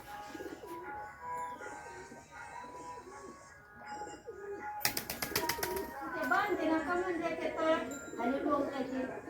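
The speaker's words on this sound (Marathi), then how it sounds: "बघा आपले कबूतर" Pigeons coo nearby in soft repeated throaty phrases at a domestic setting, mixed with people talking and a brief burst of louder noise partway through.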